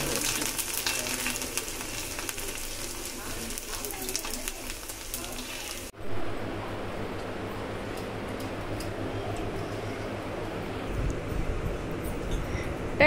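Mint leaves frying in oil for a mint chutney give a steady, close crackling sizzle that shifts midway to a softer, duller frying hiss; no one speaks.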